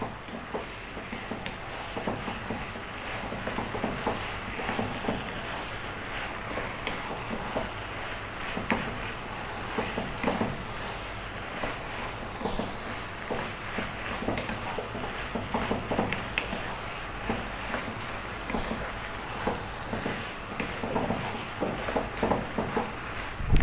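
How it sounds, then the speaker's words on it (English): Macaroni elbows and ground beef in a cream sauce being stirred in a pan, with a steady sizzle and repeated soft scraping strokes continuing throughout, no voices. "Go for 3 more minutes, stirring away."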